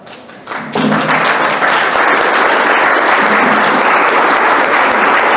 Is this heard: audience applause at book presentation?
yes